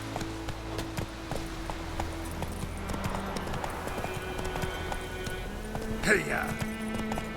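Roach, the horse in the video game The Witcher 3: Wild Hunt, galloping with a steady, rhythmic clip-clop of hooves throughout, while a rider's voice shouts over it.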